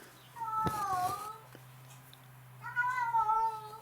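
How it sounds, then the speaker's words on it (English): A cat meows twice, a drawn-out call and then another a second or so later, fairly close, with a faint hum behind. "now my cat's decided to have a yarn to the cat next door"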